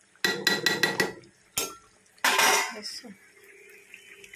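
Meat goes into a metal cooking pot with a quick run of four clanks, then a single knock and a longer scraping stir, close and clear with no talk.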